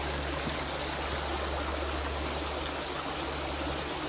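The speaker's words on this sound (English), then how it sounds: "The Raven Trail is a short trail. It goes along the creek here. This is Rauchtown Creek, by the way." Rauchtown Creek flowing along a trail in Ravensburg State Park, Pennsylvania: a steady, close wash of moving water with a low rumble underneath, continuous and unbroken throughout, with no voices.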